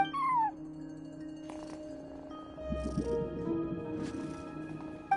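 A single short cat meow in Genshin Impact rings out at the start, followed by quieter ambient background sounds and a low rumble.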